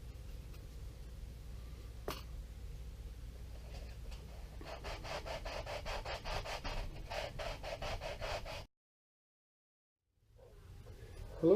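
Steady rasping strokes of sanding on a wooden mandolin kit part, quiet and close, building into quicker rhythmic passes before stopping abruptly, then resuming faintly.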